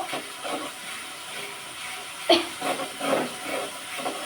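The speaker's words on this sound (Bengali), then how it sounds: "চিংড়ি মাছগুলো একদম সুন্দর করে মশলার সাথে ভাজা ভাজা করে দিব" Shrimp frying with spices in a pan, a steady soft sizzle and hiss at low level with a brief louder sputter partway through, no talk over it.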